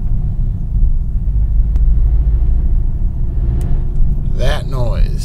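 Car at a stop sign with a low, steady clutch rumble running underneath, joined by a brief rattly grinding burst near the end; a voice talks over it.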